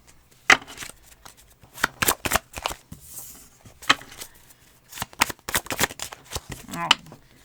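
Tarot cards are shuffled close up in irregular bursts of crisp riffling and flicking, separated by brief pauses and a few soft taps.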